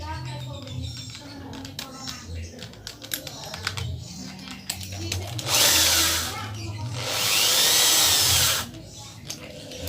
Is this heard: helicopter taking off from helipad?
no